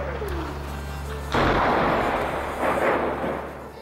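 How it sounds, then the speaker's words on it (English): Artillery fire during the siege of Homs, a single sudden heavy boom that cuts in and rolls into a long, loud rumbling decay, with no voices. "They live to the sounds of artillery and strive through the day, hungry and tired"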